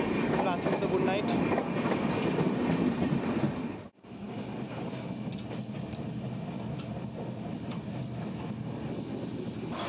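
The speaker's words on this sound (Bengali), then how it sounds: "আর আমাদের ট্রেন এইমাত্র রামপুরহাট ছাড়লো।" Uttarbanga Express passenger train rolling along the tracks after leaving Rampurhat in heavy rain, a steady loud rumble with clattering wheels throughout, briefly cut out near the four-second mark before resuming.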